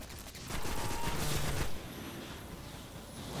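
Auto rifle fire in Destiny on Xbox One comes as a dense burst of rapid shots lasting about a second, followed by quieter game ambience.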